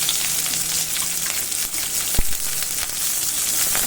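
Onions and curry leaves fry together in hot oil for a banana stem kootu, producing a loud, continuous, close-up sizzle with scattered pops and one sharp knock midway.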